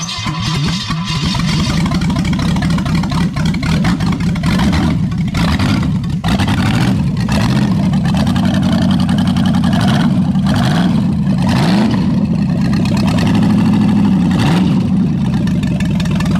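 Hudson Essex Speedster engine cranking, catching and running, a loud close mid-pitched rumble with uneven revs and sputters settling into a throbbing idle, without speech.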